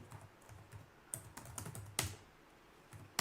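Quick bursts of keystrokes on a computer keyboard while a CentOS 8 server is set up, scattered irregular clicks with a sharper louder press near the middle, close and dry with no talk.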